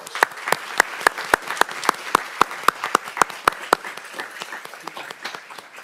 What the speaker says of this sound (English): So let's give her an applause.